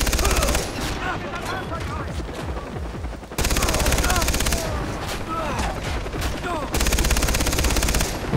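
A mounted gun in Far Cry 3 hammers out long, rapid bursts of automatic fire, loud and close, with brief breaks between volleys and a voice talking faintly underneath.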